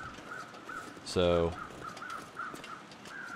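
Crows caw in the snowy wilderness of The Long Dark survival game, a few calls repeating steadily in the distance while someone talks over them.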